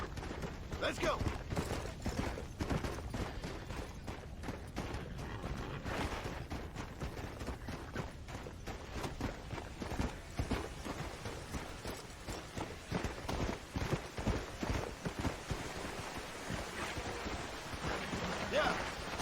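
Rapid, continuous drumming of galloping horse hooves in a Western video game, at moderate volume, with occasional talking mixed in.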